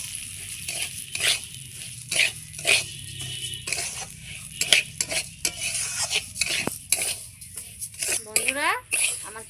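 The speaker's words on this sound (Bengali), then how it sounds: "ওই তেলেই ডালটা ভেজে নেব" Moong dal for khichuri being fried in oil left from frying brinjal, with repeated scraping strokes of a spatula against the pan over a light sizzle.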